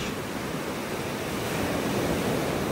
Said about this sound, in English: this is rough for the Gulf of Mexico here, these waves